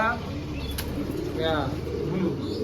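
Domestic pigeons coo softly and nearby at a pigeon seller's lofts, while someone talks over the birds.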